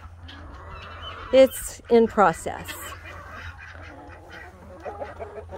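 Farm ducks honking and quacking outdoors, three loud close calls in quick succession followed by quieter scattered calls, with someone talking briefly nearby.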